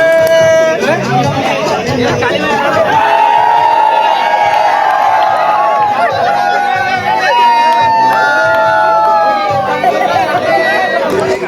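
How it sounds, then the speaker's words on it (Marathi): A huge crowd at a Ganesh immersion procession in Shahad keeps up a loud, continuous din of chatter and shouts, with scattered cheers and whoops rising above the babble. "ते बघा नजर जाईल तेवढी गर्दीच गर्दी आहे लय गर्दी आहे"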